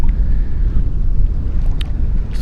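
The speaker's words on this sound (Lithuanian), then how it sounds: "Vėjas baisulinis." Strong wind buffets the microphone at a carp fishing pond, a steady broadband roar with low rumbling gusts throughout and a couple of brief faint knocks, with no talk.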